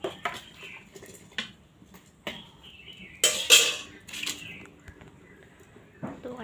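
Pots and metal utensils clatter in a home kitchen while rice is being cooked, with several sharp, separate knocks and scrapes spread irregularly across the stretch, fairly close and alone without talk.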